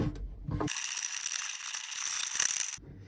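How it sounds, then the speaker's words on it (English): A ratcheting faucet tool tightens a nut under a kitchen sink, giving a continuous rapid clicking run of about two seconds between brief handling knocks at either end. "I can use the tool provided now to tighten the nut all the way up."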